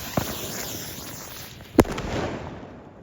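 Diwali firecrackers going off in Amritsar, with a sharp nearby bang after a smaller early pop and crackling bursts in between, ending on another sudden crack.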